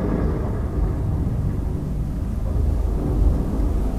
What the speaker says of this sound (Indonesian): terdengar gemuruh petir bersahutan